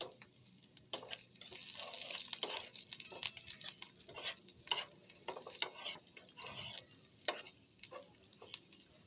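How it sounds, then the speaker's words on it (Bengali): Chilies sizzle in a hot pan while a spoon scrapes and stirs in repeated strokes, close and fairly quiet. "এখন আমি আর একটু নেড়ে চেড়ে ছড়িয়ে দিব যেন ভালো মতো ভাজা হয়ে যায়"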